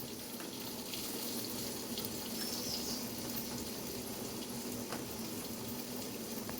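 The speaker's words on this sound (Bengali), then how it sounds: "আর দেখো এরকম ফুটছে" Sugar syrup boiling in a pan while making mango rasgulla, a steady bubbling simmer with a constant watery hiss and small pops, close by, no talking.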